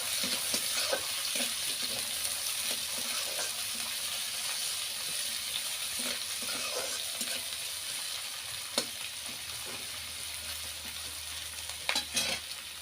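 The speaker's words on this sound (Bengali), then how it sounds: "পেঁয়াজ লাল লাল করে ভাজা হয়ে গেছে" Onions fry in hot oil after whole five-spice seeds are added, a steady close sizzle with occasional louder crackles and the scrape of stirring through the pan.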